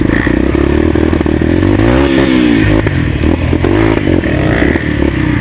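Dirt bike accelerating hard along a muddy trail, its engine loud and close, with rough revving and clattering scrapes as mud flies.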